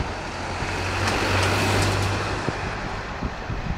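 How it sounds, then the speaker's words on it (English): Traffic on a London road near Edgware Road and Maida Vale rushes past at a distance, a steady broadband roar with a low engine hum swelling in the middle, heard outdoors with wind. "the road down there where you can see the cars going by"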